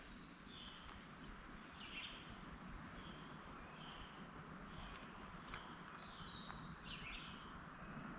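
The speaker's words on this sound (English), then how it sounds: "You can hear the birds welcoming the dawn." At dawn in a forest, steady insect buzzing and cricket trilling fill the air, with a few faint bird chirps and whistles scattered in the background.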